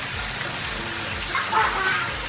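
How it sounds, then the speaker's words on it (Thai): Water flows steadily from a garden waterfall at a country home, a continuous broadband rush with a slight splashing swell near the end, heard close and alone. "สวยงามมากนะคะน้ำตกสวยงาม"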